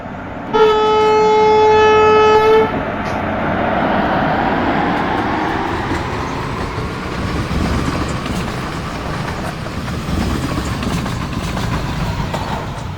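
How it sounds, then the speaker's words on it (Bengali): The Sikkim Mahananda Express, train number 15483, pulls into a station platform: a loud horn blast for about two seconds, then a continuous rolling rumble and clatter of carriages passing close by. "এই হলো আমাদের যাত্রার ট্রেন প্রায় আধা ঘন্টা লেটে পাঁচটা পঞ্চাশে ঢুকলো আমাদের সিকিম মহানন্দা এক্সপ্রেস"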